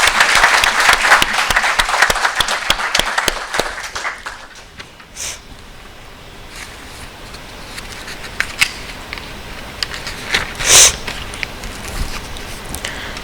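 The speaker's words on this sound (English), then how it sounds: "A big round of applause." An audience at a conservation talk bursts into loud applause that fades after a few seconds, leaving the room murmuring with scattered claps and a few sharp clicks.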